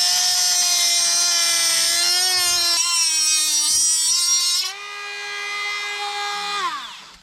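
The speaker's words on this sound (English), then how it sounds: "We've purchased ourselves a Dremel." A Dremel rotary tool whines steadily as it cuts into the bearing housing of a Moto Guzzi Griso 1100 CARC motorcycle. The loud, high-pitched tone shifts in pitch as it bites into the metal, then winds down at the end.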